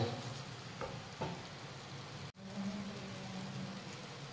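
Thick coconut barfi mixture with cardamom powder being stirred in a pan, steady scraping and soft sizzling with a couple of louder scrapes and a brief dropout midway.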